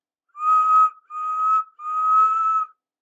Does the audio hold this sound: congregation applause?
no